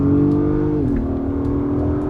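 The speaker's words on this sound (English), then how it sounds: "Immediately you hear it revving up, and we're gonna give it one quick blast here." A 2022 Acura MDX Type-S in Sport mode revs up with a steady, loud engine hum that shifts pitch partway through a short quick blast, heard up close with no talking.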